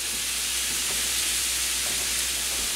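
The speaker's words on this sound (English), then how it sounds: "Now, since I hear that sizzle," Steady hot sizzling from venison searing in a pan, a constant bright hiss with faint crackles throughout.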